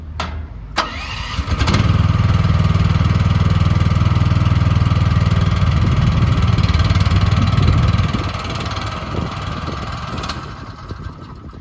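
An unused 2024 QH12R mini excavator, still cold, cranks and catches into a loud, rumbling diesel idle that runs steadily, then settles to a quieter idle.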